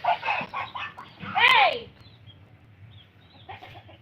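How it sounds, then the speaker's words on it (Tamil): A rooster crows once at middle distance, a rising-falling cry standing out mid-clip, surrounded by softer clucking and other farmyard bird calls with a low background hum. "சைக்கோவாக இருக்குமா அந்த சேவல்?"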